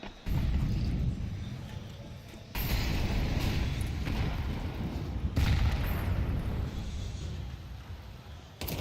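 M4 rifle gunfire in a Counter-Strike match rattles in dense, rough bursts and bangs, with abrupt cuts and a steady loud wash of fire and action throughout, no talk.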